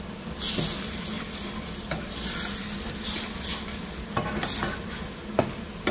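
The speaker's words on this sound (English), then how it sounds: "We're going to give this a good stir now." Chorizo with garlic pepper stirred in a hot pan, a steady close sizzle with scraping spoon strokes and occasional sharper clinks against the pan, no voices.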